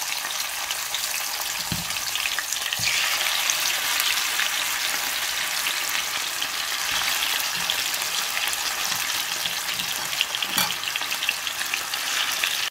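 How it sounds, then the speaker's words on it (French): Chicken pieces fry in hot oil in a pan for a Senegalese chicken yassa, a loud, continuous crackling sizzle up close with scattered pops and occasional utensil knocks. "dans une poêle, j'ai rajouté un peu d'huile qui est chaude là et mettre ma viande à l'intérieur."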